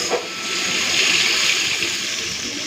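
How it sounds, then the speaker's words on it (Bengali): Water poured into a pan of fried spices, Kashmiri red chili, green chili, tomato and nigella seeds, giving a close, continuous rushing hiss for a couple of seconds with no talking. "পরিমাণ মতো জল দিয়ে দেবো"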